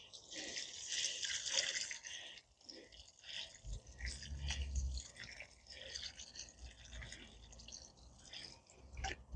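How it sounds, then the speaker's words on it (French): A newly planted Hakonechloa macra ornamental grass is watered in a garden, with soft irregular splashing and trickling onto soil and faint background sounds. "là il ne me reste plus qu'à arroser"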